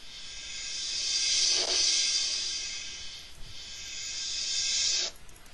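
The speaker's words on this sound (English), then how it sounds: "So you have a reverse crash and then a crash," A reverse crash cymbal swells up to a peak, then a crash cymbal sample from FL Studio rings out and fades, repeated twice as loud whooshing hisses with no talk.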